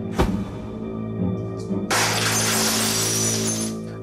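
Clocks smashed in a crime drama: a sharp crack and burst of shattering glass, then a loud sustained crash of breaking glass and debris under a steady low hum.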